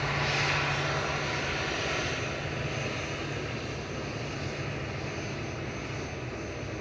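A Ryanair airliner departs from Manchester Airport, its engines giving a loud, steady roar with a low hum that fades slightly as it moves away.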